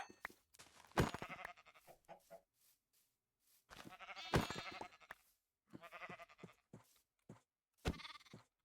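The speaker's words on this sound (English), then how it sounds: "and a bunch of sheep, actually." Sheep in the video game Minecraft bleat repeatedly, several separate calls spread across the stretch with short pauses between them, clear and close with no other sound competing.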